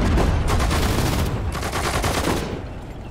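Rapid bursts of automatic gunfire in the video game Sudden Strike 4 rattle loudly and continuously, the dense shots thinning out slightly toward the end.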